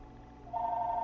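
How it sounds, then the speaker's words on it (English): Telephone ringing indoors, a steady electronic tone that starts partway through and holds clear and fairly loud, with no voices. "Sorry, the phone's ringing."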